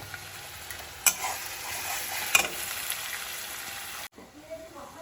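Onions, bay leaf and cumin frying in hot oil in a pan, a soft continuous sizzle with a couple of sharp stirring clicks, cutting off abruptly near the end.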